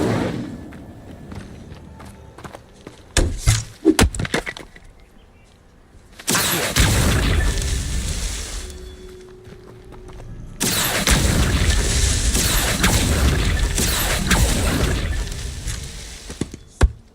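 An Incendio fire spell is cast in the video game Hogwarts Legacy, with loud roaring bursts of flame that swell and sustain for several seconds, preceded by quick thumps and impacts amid game combat noise.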